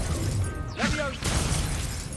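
The Leviosa spell is cast in a video game: a brief, swirling magical whoosh with rising chime-like tones lasting about half a second, set over a steady low background hum.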